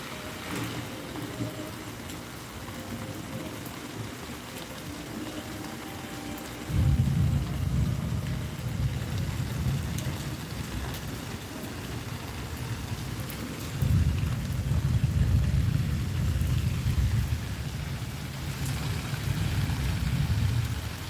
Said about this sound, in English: Hope this rain does pass in a little while